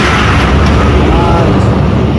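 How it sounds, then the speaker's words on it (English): A lorry rumbles past on a road near a river, a dense, loud, close roar of engine and tyres filling the moment without a break. "And there comes one lorry"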